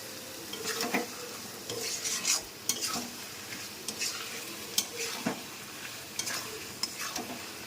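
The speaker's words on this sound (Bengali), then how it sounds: "যতক্ষণ তেল না ছাড়বে কষতে থাকবে" Thick spice paste of curd, coconut, poppy seed and cashew stir-fried in oil with a little sugar, the spatula scraping and clattering against the pan in irregular strokes over a soft steady sizzle.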